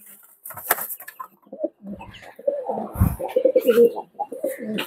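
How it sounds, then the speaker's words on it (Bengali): Pigeons let out of a high-flying pigeon loft, with a few cooing calls and rustling wing sounds under a man's nearby speech, the birds' calls clustering in the second half. "আমি কবুতরগুলো ছেড়ে দেখাই ভিউজ দেখেন।"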